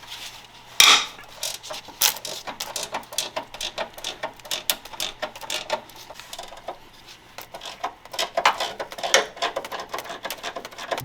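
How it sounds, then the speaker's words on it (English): A ratchet wrench working on a front strut bolt of a Nissan 370Z or Infiniti G37, giving repeated quick clicking ratchet strokes in uneven bursts, close and fairly loud, with no talking. "I think I could get it to it with this ratchet wrench."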